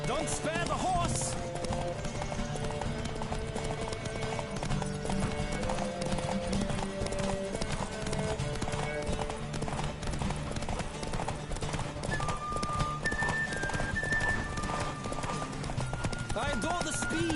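Galloping horse hooves thud in a fast, continuous rhythm during a horse race in The Witcher 3, with game music and voices layered over the steady pounding throughout.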